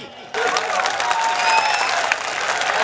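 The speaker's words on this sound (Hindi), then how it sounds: "तालियां हो जाए आपकी" An audience at a Hindi comic poetry show bursts into loud, dense applause that starts abruptly and keeps up as a steady roar of many clapping hands.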